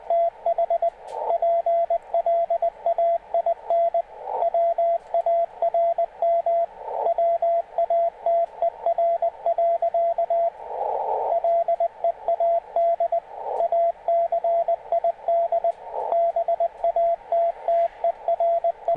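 Morse code CW at 20 words per minute sounds as a clear, steady single-pitch tone keyed in rapid dots and dashes, moderately loud against a quiet background for the full length.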